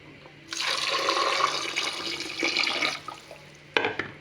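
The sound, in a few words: water poured onto cowpeas and oil in a pot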